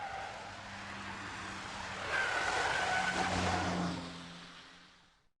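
BMW 3 Series E90 on standard suspension weaving through a wet-road slalom: a steady engine drone with tonal tyre squeal rising in the middle, swelling louder, then fading out.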